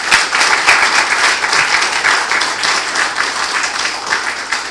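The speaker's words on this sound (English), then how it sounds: "Let us give all of our men's health champions a round of applause." A large audience breaks into sustained applause at a men's health summit, dense continuous clapping filling the room at steady loudness for several seconds with no talking over it.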